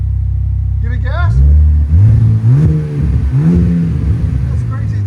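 A 2025 RAM RHO with a 3.0L Hurricane inline-six idles, then revs loudly through several quick throttle blips from its exhaust, close up, with people talking around it.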